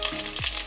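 Garlic sautéing in hot oil with mustard and cumin seeds, a brief close sizzling hiss with one soft pop.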